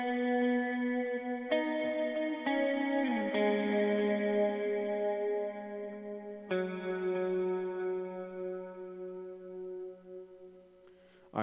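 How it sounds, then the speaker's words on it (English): Electric lead guitar interlude from a worship song, played through a dotted-eighth delay, medium-to-high mix reverb, light reverb and chorus: sustained chiming notes change every second or so, with repeats and washy tails, alone and unaccompanied. "the effects that I have here are a dot eighth delay, a medium to high mix reverb, a light reverb, and a chorus"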